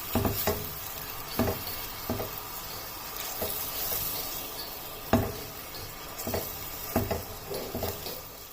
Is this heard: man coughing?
no